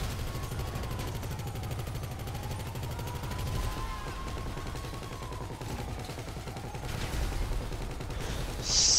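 Gunfire in Grand Theft Auto V while the player is being shot at: a dense stream of rapid machine-gun rattle runs steadily throughout, over a whining vehicle drone, ending in a louder burst.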